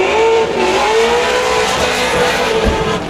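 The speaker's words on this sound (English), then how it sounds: "You can hear the different pitch tones of an LS engine" An LS-engined drift car revs hard nearby at a drift competition, a loud, steady engine roar with shifting pitch and faint tire noise under it.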